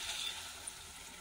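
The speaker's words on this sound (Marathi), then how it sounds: "आता याच्यात टाकणार आहे मी पाणी" Water poured into a pan of cooking peas and potato curry gives a steady, soft splashing hiss that runs quietly and evenly for about a second, with no voices.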